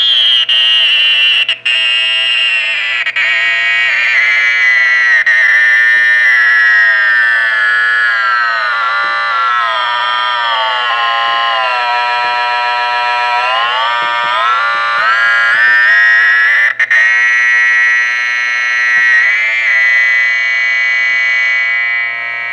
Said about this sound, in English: there's a high frequency carrier sound